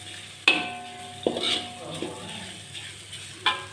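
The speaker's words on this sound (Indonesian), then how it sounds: "Kita tumis-tumis sampai matang ya, sampai kering." Vegetables for fried rice being stir-fried in a pan, with a low steady sizzle and several sharp clinks of a utensil against the pan at uneven intervals, fairly close.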